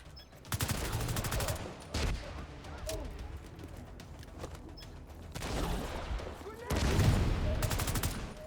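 An artillery weapon in The Division 2 fires in several heavy, loud bursts with brief quieter gaps between, close and booming, layered with chaotic game noise.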